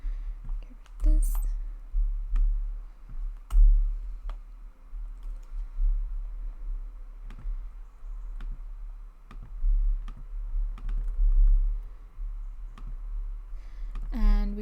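Typing on a computer keyboard, with scattered light key clicks at an irregular pace under a low steady hum and a faint voice, close and quiet.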